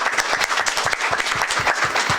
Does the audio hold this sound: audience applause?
yes